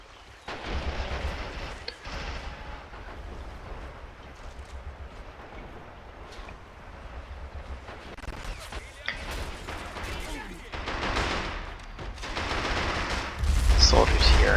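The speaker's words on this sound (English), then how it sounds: "this anti-tank gun is really heavily hitting into the soldiers cresting the hill" Artillery and an anti-tank gun fire in the World War II strategy game Men of War: Assault Squad 2, with repeated booms and bursts of gunfire in a dense battle mix under a talking voice.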